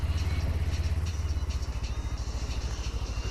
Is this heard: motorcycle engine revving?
yes